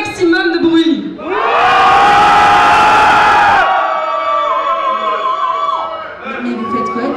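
Cabaret audience in a French circus-themed show roaring with shouts and cheers, a big sustained crowd yell swelling over a couple of seconds then fading into scattered whoops and voices.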